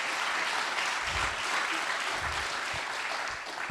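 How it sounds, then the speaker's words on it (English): At an entrepreneurship competition grand final, the audience gives a round of applause, a steady crowd clapping that runs evenly and eases slightly at the very end. "Let's give him a round of applause"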